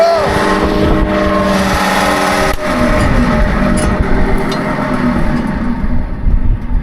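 A rough-running electric motor with worn bearings grinds and whines loudly up close. Its harmonic tone sweeps and shifts, breaks off briefly partway, then rattles on unevenly, with wind buffeting the microphone.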